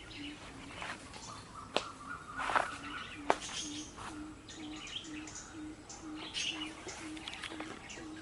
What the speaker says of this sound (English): You think that's a bird about this big, where you can make that deep, deep sound.